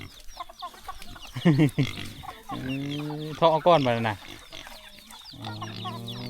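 Chickens cluck busily while eating in a rural farmyard in Laos, close and loud, with someone talking over them at times.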